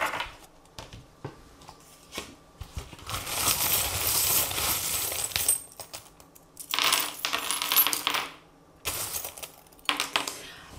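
Small metal divination charms are dropped and scattered onto a surface, producing bursts of clinking, jingling rattles in several clusters with quiet pauses between, close and crisp.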